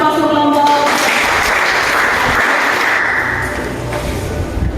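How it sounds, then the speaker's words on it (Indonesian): A classroom of students claps for a presenting group in an Indonesian school history lesson, dense steady applause that holds for several seconds, with a voice briefly audible at the start. "Oke, kita berikan aplaus untuk kelompok."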